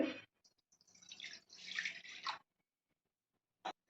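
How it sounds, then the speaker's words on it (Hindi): Water pours in from a glass into a kadhai (wok) being readied to boil carrot, amla and green chillies for pickle, a rushing splash lasting about two seconds, then one short splash after a pause; no talk. "तो इसमें हम 1 गिलास पानी का डाल देंगे।"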